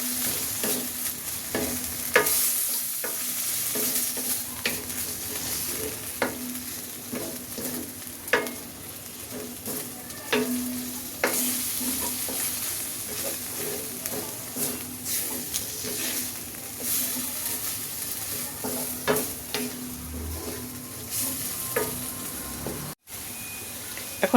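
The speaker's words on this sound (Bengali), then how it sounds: "এখন এটাকে আবার একটু ভালো করে ভেজে নেব" Egg and tuna mixture, seasoned with pepper, frying in a pan for an egg pizza, a steady close sizzle with repeated scraping stirs of a spatula throughout.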